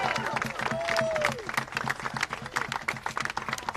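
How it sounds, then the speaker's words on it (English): Crowd applause at a rally, clapping and scattered cheers from a large outdoor gathering that swell under a speaker's amplified voice, then thin out into looser claps toward the end. "let's give one last round of applause for the senators who came out today"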